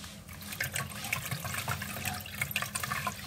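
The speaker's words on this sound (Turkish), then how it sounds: "Şimdi güzelce bulgurumuzu süzüyoruz." Soaked bulgur being drained of its water, a continuous splashing, running-water rush close by, fairly loud and unbroken, with no voices.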